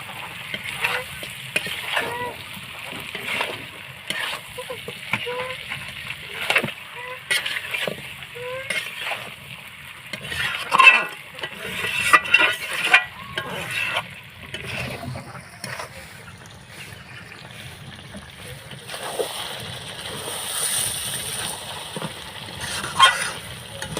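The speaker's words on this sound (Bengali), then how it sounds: "আলুগুলো দিয়ে এবার কিন্তু আমি নাড়াচাড়া করবো ভালো করে।" Fried potatoes are stirred into mutton curry frying in a pan, with a soft, steady sizzle under repeated scraping and clinking of a spoon against the pan at close range.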